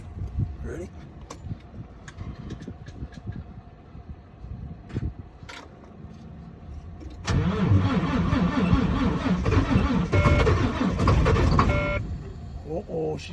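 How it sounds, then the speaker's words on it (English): A Volvo D13 diesel engine makes a cold start. Several seconds of quiet talking come first, then the engine fires and settles into a loud, rough, rumbling idle that runs to the end. "Let's get ourselves a little cold start video here."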